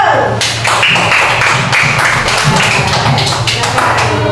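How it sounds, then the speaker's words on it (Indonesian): Pupils in a primary school classroom clap their hands together in a quick, steady rhythm, a run of sharp taps that continues for several seconds over a low room hum. "Tepuk tangan dulu untuk Rizio."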